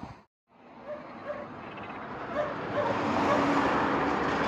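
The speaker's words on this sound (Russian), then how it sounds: "Очень быстрая и очень скандальные собаки." Several small, quick-tempered dogs barking outdoors in a yard, a steady dense yapping racket that builds and stays loud throughout after a brief pause at the start, with faint traffic noise behind.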